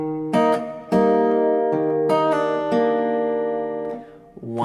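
An acoustic guitar plays one measure of a song as picked, ringing notes in a steady rhythm, close and clear, with no talking over it.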